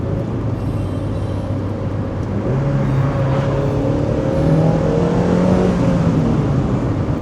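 A Mazda MX-5 engine rumbles steadily from inside the car, its pitch rising and dropping as the driver shifts through the gears, loud and continuous with no talking.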